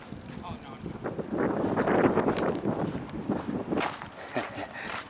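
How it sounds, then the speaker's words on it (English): Wind gusts buffet the microphone while a Star Wars X-Wing fighter kite is flown outdoors, a rushing roar that builds and fades, with rustling movement alongside. "There's a big gust. I can feel the gust coming."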